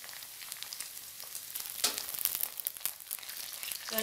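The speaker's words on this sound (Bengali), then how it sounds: "এটাও একটু ফ্রাই করে নেব" Green chilies and curry leaves fry in hot oil with sautéed onions, giving a steady, bright sizzle at close range. A few brief scraping stirs come through, with a short louder burst near the middle.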